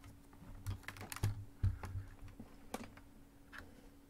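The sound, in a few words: typing on a loud gaming keyboard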